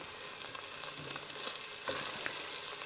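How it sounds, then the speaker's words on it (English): Vegetables sauteing in a pot as the base for beef stroganoff soup, giving a steady close sizzle with a few soft stirring scrapes and no talking. "I'm going to saute this for about 5 minutes"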